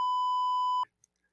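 A censor beep rings out as a single clean, steady electronic tone lasting under a second, then cuts off sharply into near silence.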